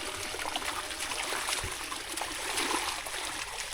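Water runs to a tree in a Konkan village with a continuous soft trickling hiss and a few faint splashes, steady and fairly close.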